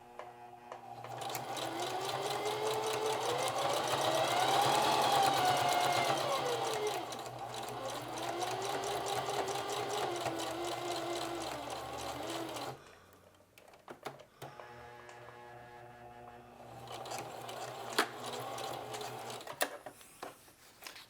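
A domestic sewing machine runs a flat felled seam in steady rhythmic bursts, its motor humming and whining in pitch for about twelve seconds, then pausing before several shorter stitching runs, with a voice briefly talking between passes.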